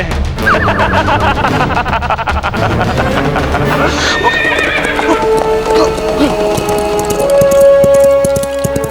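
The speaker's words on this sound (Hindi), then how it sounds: "जिस घोड़े ने मेरी फौज को तबाह किया उसकी मैं शान से सवारी कर रहा हूँ" Horse hooves clip-clop steadily under a mounted rider while the horse neighs and whinnies loudly, set against dramatic background music in a Maharana Pratap historical drama scene.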